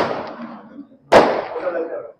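Two firecracker bangs, the second sharper and louder, each followed by a crackling, fading tail.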